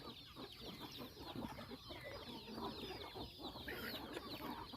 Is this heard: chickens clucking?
yes